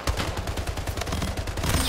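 Gunfire in the arena shooter Splitgate, a fast, evenly spaced burst of automatic shots at close range, loud and unbroken for the whole moment.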